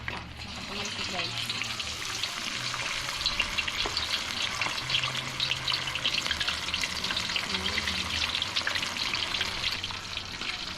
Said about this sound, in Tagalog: habang nagpiprito si Mrs. Kitchen